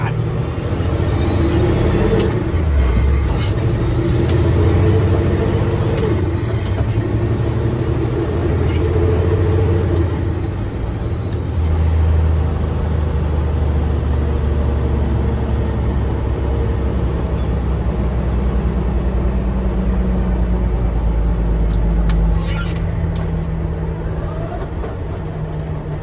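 Truck engine pulling under throttle over a washboard road, a loud rough drone with a rising whistle like a boost leak, rattling and shaking throughout, then settling into a lower steady rumble.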